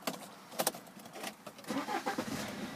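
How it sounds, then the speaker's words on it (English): A black BMW 520d M Sport automatic diesel with high mileage cranks and fires up, a sequence of clicks and bursts settling into a busy, close mechanical clatter. "Getting the car started."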